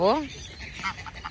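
Ducks being offered food at a pond give a sharp quack at the start, then fainter calls follow under a short spoken word.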